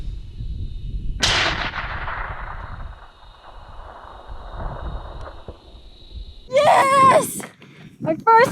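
A single sharp rifle shot rings out during a baboon hunt in Namibia. A loud crack is followed by a long decaying rumble, and excited voices and cheering come in a few seconds later.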